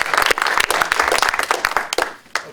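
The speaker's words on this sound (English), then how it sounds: "I think everybody should applaud you for your work." Audience applause at a Common Ground USA conference, a dense burst of many hands clapping that carries for a couple of seconds before thinning out.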